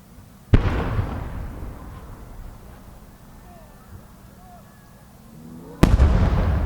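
Two loud, sharp booms from an 8-inch rainbow-gradation firework shell by Saeki Enka burst several seconds apart at an outdoor display, each followed by a rumbling, crackling tail, with faint crowd noise in between.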